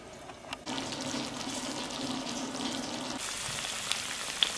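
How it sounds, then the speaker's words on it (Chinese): Shaanxi-style spicy water-fried buns cook in oil and a flour-water slurry in a covered flat pan over low heat, giving a steady, close hiss and sizzle that shifts in tone partway through, with a few faint ticks. "盖上锅盖，小火让慢慢煎着"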